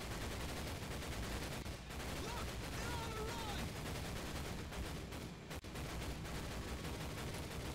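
Gunfire and explosions from the Medal of Honor Pacific Assault video game, a dense continuous wash of shots and blasts running steadily throughout with brief dips.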